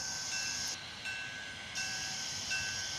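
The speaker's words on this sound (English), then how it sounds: "But finally it was time for the train to leave." Jeddo Coal 85 steam locomotive pulling away from a station, heard as a faint, steady hiss and rumble at a distance, with no talk.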